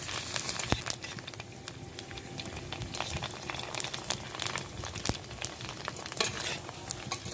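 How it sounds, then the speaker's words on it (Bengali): Fuchka puris frying in hot oil in a home kitchen, a steady close sizzle with scattered crackles and occasional utensil clinks, no talk. "আবার কিছু ফুচকা তেলের মধ্যে ছেড়ে দিলাম"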